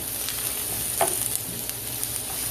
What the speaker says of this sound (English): Give them a quick saute real quick for about 3 to 5 minutes